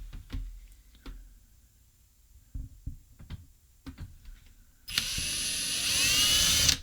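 A power drill bores through a wooden cabinet door to fit knob and pull hardware: a few sparse knocks and taps first, then a loud, steady high whine from the drill that holds for about two seconds.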